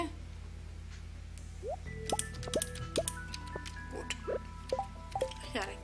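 Crops are watered in the farming video game Stardew Valley, producing a rapid series of bright, bubbly splashing and dripping blips, one after another, with a player speaking briefly over them.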